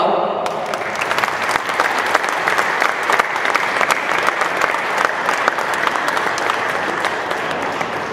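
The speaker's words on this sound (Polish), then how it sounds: "Także wielkie brawa." A crowd claps steadily and loudly for a charity auction bid at a motorsport memorial rally event, the sustained applause filling the whole stretch without a break.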